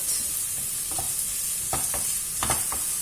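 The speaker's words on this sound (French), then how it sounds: "Je vais faire revenir également l'oignon et l'échalote" Onion and shallot sautéing in a pan, a steady soft sizzle punctuated by a few scraping stirs of a utensil.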